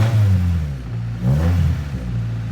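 A 1995 Honda Civic DX manual runs just after an oil change, its engine a low steady hum close by with a brief rev swell near the middle.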